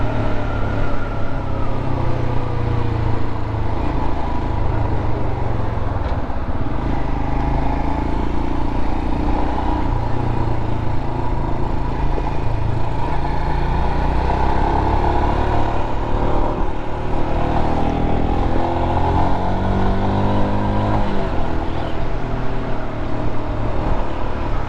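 A Royal Enfield Himalayan motorcycle engine holds around 5,000 rpm while riding, giving a steady, close droning thrum with slight pitch shifts and wind rush throughout.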